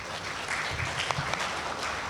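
Audience applause at the close of a presentation at a Thailand JCM seminar, a steady, moderately loud wash of clapping from a seated crowd lasting throughout.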